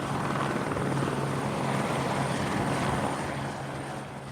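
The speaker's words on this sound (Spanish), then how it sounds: "decidieron usar helicópteros, y ese era el sonido que predominaba en la isla" Helicopters spreading rat bait over an island's farmland: a steady, loud rotor drone with a low throbbing beat and broad engine roar, fading slightly at the end.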